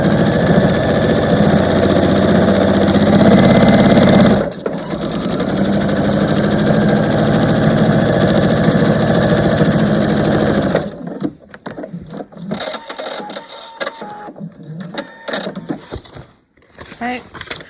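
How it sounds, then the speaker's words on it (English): A sewing machine stitches one long quilt seam, a steady fast mechanical whir that runs unbroken for several seconds, shifts slightly in pitch, then gives way to short stops and bursts of lighter handling noise. "And then I'm going to sew that. So it's just one big long seam."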